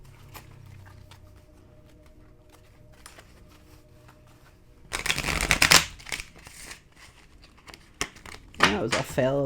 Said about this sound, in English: That was a fail of a shuffle.